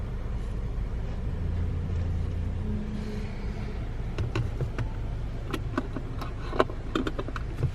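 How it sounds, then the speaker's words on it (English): A UPS delivery truck passes as a steady low engine rumble. Scattered clicks and clatter sound nearby while the truck rolls by at a moderate distance. "There's one of the UPS trucks."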